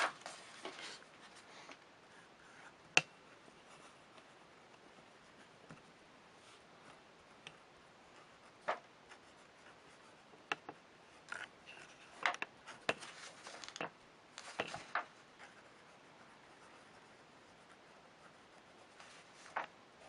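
A Jinhao 159 fountain pen with an Anderson 1.5 stub nib scratches across paper in quiet, close strokes, with soft scrapes and occasional sharper taps of the nib at irregular intervals.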